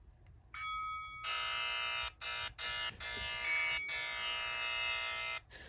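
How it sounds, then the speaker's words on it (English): A harsh electronic buzzer from an app on an iPod touch sounds in several long bursts broken by short gaps, loud and close, with no voices. "I have a buzzer."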